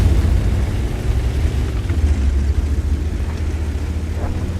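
Lorraine 155 artillery shell firing in World of Tanks, heard as a heavy, continuous low rumble with a deep booming body that holds steady throughout, with no talk.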